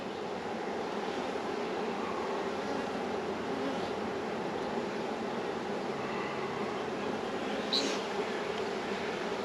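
Honeybees drone steadily around an open hive holding a recently caught swarm, a continuous outdoor buzz that stays at an even level for the whole stretch, with no talking.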